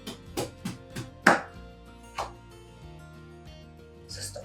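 A kitchen knife cuts raw chicken at the joint, between the bones, to split the piece in two. Several sharp, close knocks and crunches come in an uneven series, with quieter handling noise between them.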